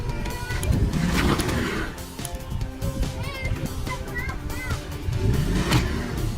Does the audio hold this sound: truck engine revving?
yes